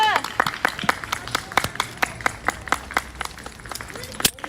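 Scattered hand claps from passers-by at an outdoor street speech in a traditional hanok village, a dozen or so uneven claps spread across a few seconds, with voices and crowd noise underneath.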